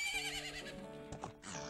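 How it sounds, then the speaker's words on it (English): Epona, the pony from the Zelda game Majora's Mask, lets out a whinny over a steady tonal background, followed by a brief clip-clop and a second short neigh near the end. "Isn't that your horse? Cool. Is that? That's a pony."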